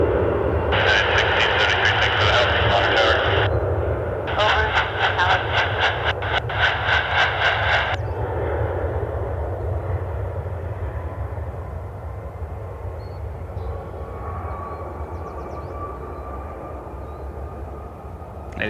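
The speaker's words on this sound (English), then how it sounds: "I see the Guardians charter is taxiing out over to my right, as well as a second United 737." A United Boeing 737 jet taxis at Cleveland Hopkins airport, a broad, steady engine rumble that is loud at first and slowly fades, with a few high whining passages early on.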